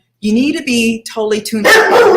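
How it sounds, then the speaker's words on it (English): A dog barks several times nearby, sharp loud yaps partly overlapping a person talking. "Oops, sorry, that's my dog."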